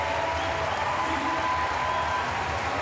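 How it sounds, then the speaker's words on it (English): A crowd at a Paralympic powerlifting event in Paris applauds a lifter, producing a sustained, even wash of clapping that fills the whole stretch at moderate loudness, with faint crowd murmur beneath. "takes the great applause given to her by this crowd in Paris"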